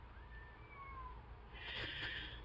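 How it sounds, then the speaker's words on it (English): Cat outdoors on a freezing night fighting with another cat, drawn-out wavering meows rising into a harsh, louder caterwaul toward the end, heard from some distance. "He's probably fighting with another cat."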